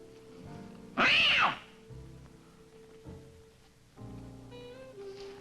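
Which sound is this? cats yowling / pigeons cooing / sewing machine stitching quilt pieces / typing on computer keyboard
cats yowling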